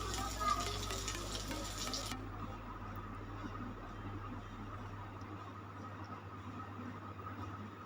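Pointed gourd (potol) frying in a pan makes a soft, close sizzle over a low steady hum, with the crackle growing fainter partway through.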